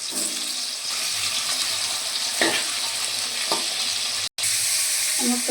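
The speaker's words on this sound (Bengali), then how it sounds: "একসঙ্গে ভেজে নেব।" Vegetables with salt and a pinch of sugar frying in a pan while being stirred, a continuous loud sizzle broken by scraping strokes and one brief cut.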